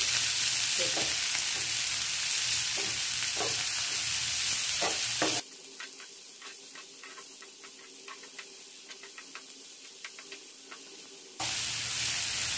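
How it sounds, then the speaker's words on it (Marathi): Chopped onion for a Maharashtrian vadyachi bhaji frying in a pan, a steady close sizzle with scattered stirring scrapes, softening to a quieter, even hiss midway before rising again. "हा कांदा अगदी आपल्याला असा लालसर किंवा गोल्डन कलर होईपर्यंत चांगला भाजून घ्यायचा आहे"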